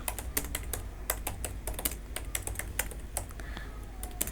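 Rapid, steady keystrokes on a computer keyboard while CSS code is written, close and even, continuing alone without talk for the whole stretch.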